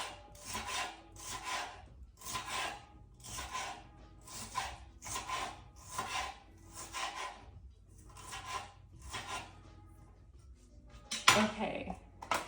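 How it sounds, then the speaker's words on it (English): Knife cutting salad vegetables on a board in a home kitchen, about a dozen evenly spaced strokes in a brisk rhythm, then a pause and a louder clatter near the end, close and fairly quiet. "I'm cutting this kind of bigger because later when I use it, I can decide like if I want to chop it smaller or not"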